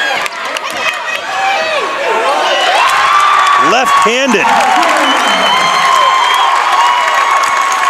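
A loud, raucous home crowd cheers and roars throughout a high school boys' varsity basketball semifinal between Windham and Portland, with a commentator talking over the steady noise.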